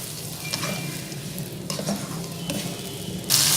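Tomatoes being stirred into fish pulao in a pan, with a soft sizzle of frying and the scrape of a spoon against the pan, steady and close with a few sharper clinks.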